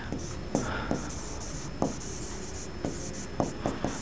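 Chalk or marker scratching across a classroom board during a Hindi alphabet lesson, short rubbing strokes with sharp taps at the start of each mark, close and fairly loud over a steady background hiss.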